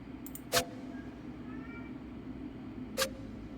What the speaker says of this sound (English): I don't know if you can hear my cat, but my cat is meowing for attention again.